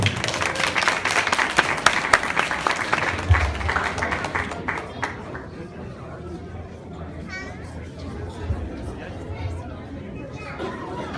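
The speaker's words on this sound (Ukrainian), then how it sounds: "Прошу оплесками привітати Ірвін Тенсун!" An audience at a youth folk performance applauds loudly to welcome a group onto the stage. The clapping is strong for several seconds, then fades into quieter crowd chatter and children's voices.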